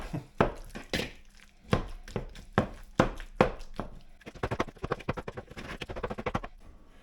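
Banana and peanut butter being mashed in a plastic container gives a series of soft thuds and scrapes, first spaced and deliberate, then quicker and more rapid, close up and fairly quiet with no talking.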